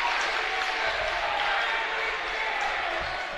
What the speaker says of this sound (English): Simpson drives. Bins. Stuffed by DiGiovanni. Crowd loving it.